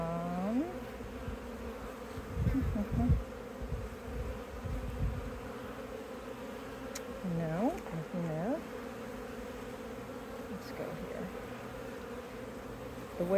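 Honey bees buzz as a steady, dense hum throughout a spring hive inspection, with brief low handling thumps near the start and faint talk now and then.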